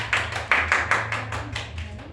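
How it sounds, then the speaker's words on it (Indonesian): Classroom applause for a student group during a grade 8 science lesson on elements, a short burst of clapping from several hands with uneven rhythmic peaks, moderately close and fairly quiet. "Beri tepuk tangan untuk kelompok."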